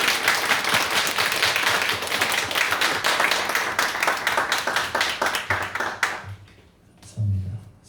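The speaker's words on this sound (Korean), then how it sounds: "박수가 많이 나옵니다. 하나님께 영광의 박수 한 번 더 올립시다." A church congregation at a Sunday service applauding, giving dense, loud, sustained clapping from many hands that thins into scattered claps and fades out, followed by a voice near the end.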